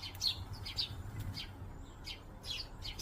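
Birds chirp and tweet in short, scattered bursts in the rain, small and somewhat distant over a steady soft background hiss.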